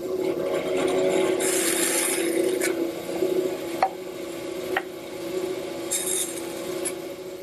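A bandsaw cuts shoulder cuts along the edges of a wooden piece for a coffee table, giving a steady close rasping buzz with a few sharp ticks and brief bursts as the blade works through the wood.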